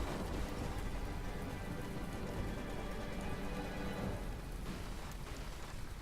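Steady, dense rainfall in the From The Depths naval combat game, a continuous hiss of rain on surfaces with low rumbling underneath, loud and unbroken across the whole stretch with no speech.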